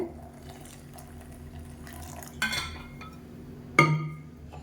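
Water is poured into an amla juice mixture in a kitchen, a soft splashing hiss set against low room noise, with a few sharp clinks of a vessel or utensil, the loudest near the end.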